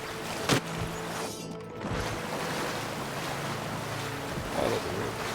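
Flowing river water in a fantasy role-playing game, a steady broad rushing wash running throughout, with a sharp splash or thud near the start and game sounds over it.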